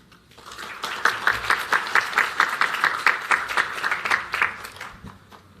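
An audience at a South Australian awards evening applauds to welcome the Premier, Peter Malinauskas, with steady, dense clapping that swells, holds for several seconds and then tapers off.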